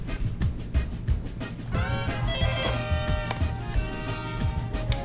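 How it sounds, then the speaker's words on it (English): A phone rings inside a van, its melodic ringtone rising out of a busy background about two seconds in and repeating steadily through the rest of the moment. "my phone is ringing"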